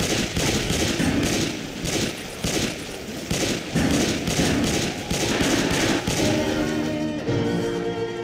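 Rapid gunfire from automatic weapons in Left 4 Dead 2 on the Hard Rain campaign at Expert difficulty, loud sustained bursts with short pauses, fading toward the end as a musical tone rises.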